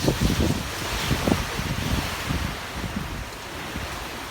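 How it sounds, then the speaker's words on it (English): Strong hurricane wind during Hurricane Ian roars steadily as a broad, continuous rush with low buffeting gusts against the microphone and no voices. "I'm guessing right now the wind has got to be going over 50 miles an hour"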